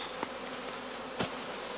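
A swarm of honeybees cast from wooden platters into straw skeps makes a soft, steady buzzing hum, faint and continuous, with a couple of brief louder thumps.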